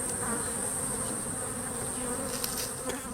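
Honey bees buzz in a continuous, close, steady drone that stays fairly faint, with no voices over it.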